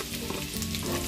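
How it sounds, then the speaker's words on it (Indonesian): Chopped garlic and shallots fry in hot oil left over from frying eggplant, giving a steady, close, loud sizzle that runs without a break and has no voices over it. "Goreng bawang merah dan bawang putih sampai harum"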